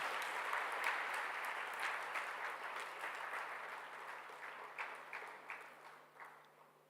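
Dense applause from an audience at a college inauguration event for first-year BBA, B.Com and B.Sc Psychology students, steady and full at first and gradually thinning toward the end, with no talking over it.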